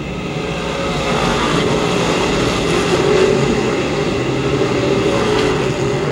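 Race cars accelerating at New Egypt Speedway give a steady, loud engine roar that holds evenly throughout, with no voices over it.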